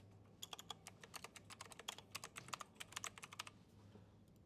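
Fingers tap out a quick, irregular burst of keystrokes on a computer keyboard, close and crisp, lasting about three seconds before stopping, with no talking.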